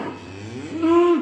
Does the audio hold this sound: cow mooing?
yes